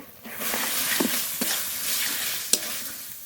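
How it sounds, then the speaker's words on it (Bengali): Spice masala sizzling and frying in oil in a pan while being stirred, a steady loud hiss with a few scraping clicks from the spoon, close up. "বেশ খানিকক্ষণ ধরে মশলা কষিয়ে নিয়েছি খুব ভালো করে তেলও ছেড়ে দিয়েছে"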